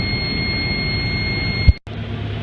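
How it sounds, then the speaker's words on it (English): A heavy truck's low air pressure warning buzzer sounds as a steady high-pitched tone over idling engine rumble, then abruptly cuts off as the air system builds pressure, leaving the engine running. "my primary tank's LPWS just went out, the buzzer went away"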